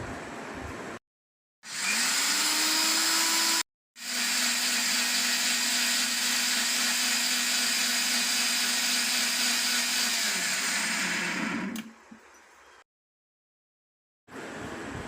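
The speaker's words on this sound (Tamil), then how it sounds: "இது எல்லாமே போட்டு நல்லா ஃபைன் பேஸ்ட்டாக அரைச்சிக்க போகிறோம்." A blender grinds a handful of mint leaves and cumin into a fine paste, roaring loud and steady in two long bursts with short silent gaps and a falling whine as the motor stops.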